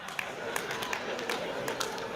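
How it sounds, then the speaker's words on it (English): A small, thin patter of clapping rises from a stand-up comedy audience, soft and steady for a couple of seconds with no voices on top. "A little bit of applause."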